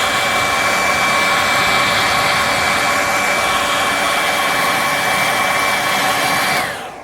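A hair dryer blows steadily and loudly close by, drying paint laid over hairspray on a wooden cutting board, a constant whooshing roar with a thin whine before it switches off at the end.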